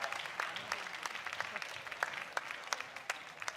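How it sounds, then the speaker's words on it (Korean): Scattered applause from a modest church congregation, a steady patter of claps with a few sharp, louder ones standing out. "큰 박수로 격려해 주시면 감사하겠습니다."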